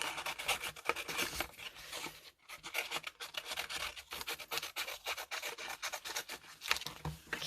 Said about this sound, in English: I'm just going to trim off the edges and rough those up a little bit.